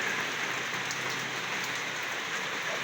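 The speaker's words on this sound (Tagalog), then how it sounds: "Yan, maulan, maulan." Steady rain pours outdoors in a dense, even hiss that stays constant and moderately loud throughout, with no voices.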